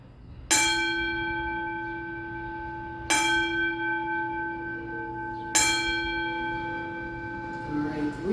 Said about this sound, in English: let's go ahead and just listen to a nice little tune of the signal bell real quick